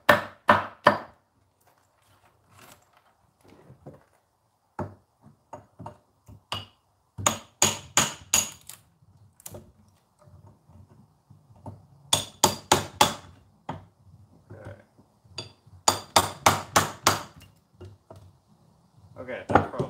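Hammer blows knocking chunks out of a wooden dough bowl being carved by hand, sharp woody strikes in irregular bursts and quick clusters with short pauses between, close and fairly loud.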